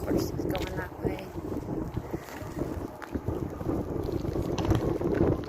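Strong wind roars through a third-floor factory space acting as a wind tunnel, blowing steadily and gusting hard against the microphone while voices speak underneath.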